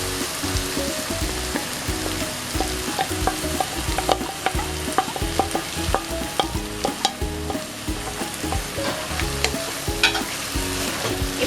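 Mushroom mixture frying in a pan as melon seed paste is stirred in, a continuous loud sizzle broken by frequent clinks and scrapes of a spoon against the pan.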